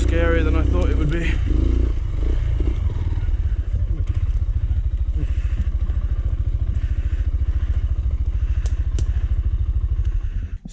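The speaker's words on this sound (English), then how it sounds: "riding enduro with heavy luggage bags over slippy logs" Enduro dirt bike loaded with heavy luggage bags idles and crawls over slippery logs, a loud, close, low engine chug with occasional clattering knocks, with a voice speaking briefly at the start.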